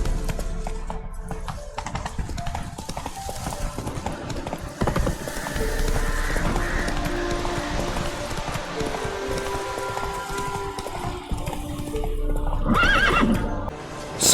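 Roach the horse in Witcher 3 neighs and whinnies over steady galloping hoofbeats, with game music and ambient effects layered underneath, a loud whinny rising near the end.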